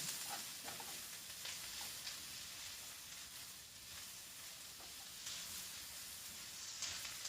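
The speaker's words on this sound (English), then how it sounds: "Mushrooms won't take that long, maybe a few minutes to stir fry." Mushrooms are stir-fried in a pan, with a quiet, continuous sizzle and hiss, a few faint stirring scrapes, and no voices.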